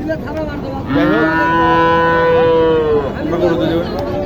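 A cow at a cattle market in Matajir Haat, Naogaon, gives one long, loud moo close by, rising and holding steady for a couple of seconds before trailing off.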